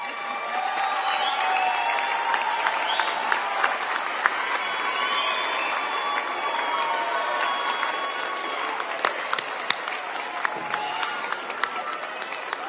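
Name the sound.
audience applause for graduates at commencement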